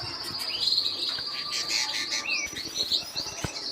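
Canaries in breeding cages chirp and trill in bright, busy song, several birds overlapping continuously at moderate loudness across a short stretch.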